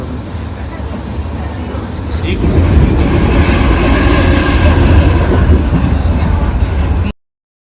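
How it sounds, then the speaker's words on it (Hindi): A train rides along the Dalkey route near Dublin, its steady rolling rumble swelling louder after a couple of seconds and holding a dense, continuous roar until it cuts off. "और ये है डलकी का खूबसूरत रास्ता। ट्रेन राइड है।"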